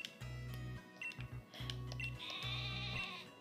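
Wooloo sheep in the Pokémon video game bleat in repeated low, buzzy calls, three or four in a row, over soft chiming game tones and music.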